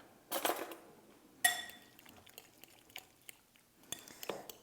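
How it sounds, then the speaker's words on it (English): Salad dressing seasoned with Himalayan salt stirred with a utensil against a dish, giving two sharp clinks near the start followed by softer scraping taps and a few light knocks, close and fairly quiet, with no talk. "Stir that up again."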